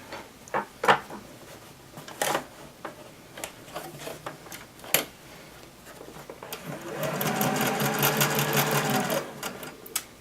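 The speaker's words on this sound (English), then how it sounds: "I'm going to pull my sewing machine up, and we're just going to sew right along the edge of the head and the belly" A sewing machine stitches along the pinned edge of a fabric dinosaur's head and belly, running in a steady burst during the second half after scattered handling clicks and taps.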